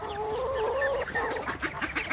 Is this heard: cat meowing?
no